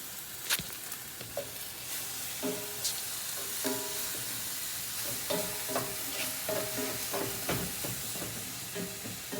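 Brisket sears in a hot pan with a steady hissing sizzle and periodic scraping or stirring knocks, close and continuous with no talking.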